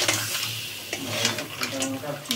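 Fried crabs go into masala sizzling in hot oil, a brief burst of frying hiss and stirring scrapes in a pan, close and moderately loud.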